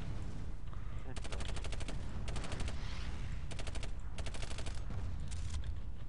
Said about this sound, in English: Why am I using a submachine gun on the medic?